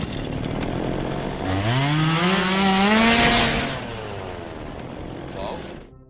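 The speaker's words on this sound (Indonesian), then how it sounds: "Ia kemudian melihat sebuah gergaji mesin di dekatnya" Chainsaw running in a zombie film, its engine revving up in a rising, wavering whine that peaks and then eases off, loud and sustained for several seconds.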